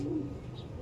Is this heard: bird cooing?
yes